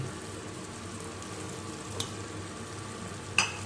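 String beans hitting a hot pan of melted tomatoes give a steady, close sizzle and fry, broken by two brief stirring clicks near the end.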